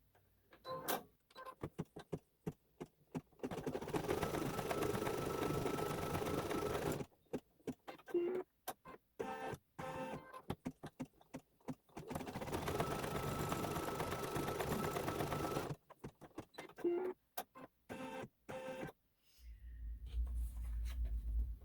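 Embroidery machine stitching swirls in metallic thread, two long stretches of steady mechanical buzzing and needle chatter broken by quiet gaps with small clicks and pauses.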